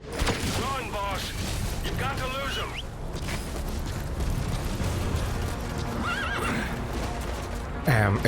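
A horse in Metal Gear Solid V: The Phantom Pain whinnies loudly several times over galloping hooves, with game rumbles and someone talking in the background.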